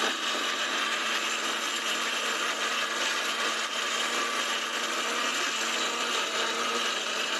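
A Miyako blender runs steadily and loudly, whirring ingredients with a little water into a paste in one continuous high-pitched motor drone with no pauses.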